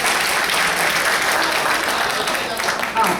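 Steady audience applause fills a hall, a dense continuous clapping that stays loud for the whole stretch with a faint murmur of voices beneath.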